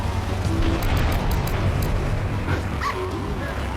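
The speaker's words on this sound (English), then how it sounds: "Gee willikers, it's a puppy." A puppy barks and whimpers inside a radio advertisement on the in-game station of GTA III, mixed into a dense, loud, steady bed of game noise.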